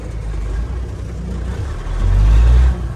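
Engine of a 6x6 vehicle running again after ten years idle, a loud, rough low rumble close by that swells in a rev near the end before settling back.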